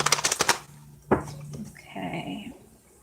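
Romance tarot cards get shuffled up close, a quick run of crisp riffling flicks followed by a single slap and a softer rustle as the deck settles.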